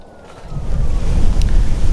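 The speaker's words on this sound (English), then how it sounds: "it's a little windy up here" Steady wind buffets the microphone on a hilltop lookout point, building from a light rush to a stronger, continuous roar with no voices.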